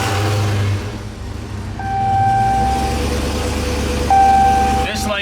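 A Demon-swapped Chrysler 300 engine runs steadily at idle with a low rumble, broken by two sustained tonal beeps or chimes, ending in a brief rising whir.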